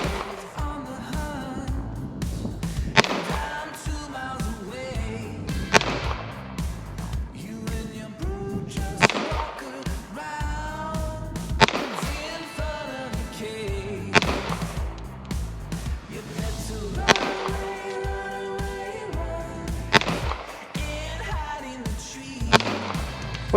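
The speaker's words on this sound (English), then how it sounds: "we're gonna put 9 shots into it and see what our grouping looks like" Nine shots from a Sig Sauer P226 9mm pistol fired at a target at 10 yards, sharp separate cracks spaced a few seconds apart in an even rhythm, fairly loud and free of talk.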